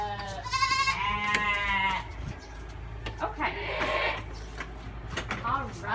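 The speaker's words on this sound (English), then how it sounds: "a kid is a baby goat" A baby goat bleats on a farm, several loud wavering cries close by, with a person talking between and over them.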